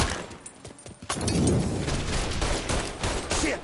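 Gunfire from the video game Mafia III bursts out in rapid, crackling volleys after a brief quieter opening, with dense overlapping shots that stay loud and close until the end.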